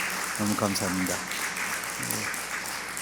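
A church congregation at a Christmas Eve service applauds in a continuous, moderately loud patter, while someone speaks briefly over the clapping.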